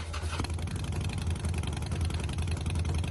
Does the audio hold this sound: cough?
no